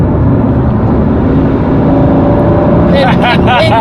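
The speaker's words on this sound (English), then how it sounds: "It kicked on the engine." A hybrid car's engine kicks on while in eco quiet mode and hums steadily, with a rising tone near the end as it revs, under people talking.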